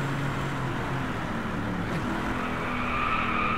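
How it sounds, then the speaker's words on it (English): Car tires skidding and squealing in a sustained drift in the racing video game Driveclub, a slippery two-wheel-drive car sliding with engine roar underneath, loud and continuous throughout. "No, stop with the drifting."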